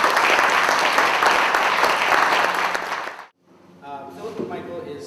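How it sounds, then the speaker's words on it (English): Lecture audience applauding a speaker at an academic talk on globalization and social movements: a dense, steady wash of clapping that stops abruptly, followed by a voice speaking. "let's just give her a round of applause"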